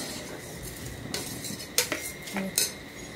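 A spoon stirs masoor lentil pulao in a cooking pot over low heat, making intermittent metallic scrapes and clinks over a steady background hiss, with no talking.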